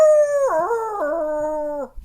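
A dog howls in one long, loud, drawn-out wail lasting nearly two seconds, its pitch wavering up and down before trailing off, with no barking evident.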